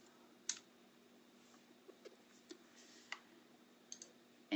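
Calculator keys pressed to enter an RREF matrix command, a handful of soft, sparse, close clicks spaced out in near-silence.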